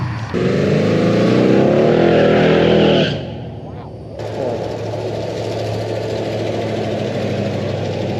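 A powerful Hemi V8 car engine roars at high revs for a few seconds, drops off briefly, then settles into a loud, steady rumbling idle nearby at a car show.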